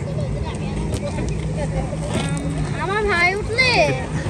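A jet ski rides across Lake Gregory in Nuwara Eliya, Sri Lanka, its engine whining and sweeping up and down in pitch at middle distance, mixed with steady outdoor background noise and crowd chatter nearby.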